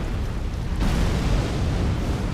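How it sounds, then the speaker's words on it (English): An explosion in the Elden Ring DLC, a deep rumbling blast that swells suddenly and keeps roaring with a broad, noisy, sustained boom and no voices. "The explosion really is so much smaller than I thought long ago."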